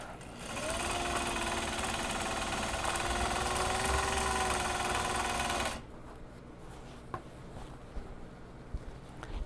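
A sewing machine runs steadily while stitching the end seam of a small box bag, a loud continuous mechanical whir lasting about five seconds before it stops, leaving quiet room noise with a few faint clicks.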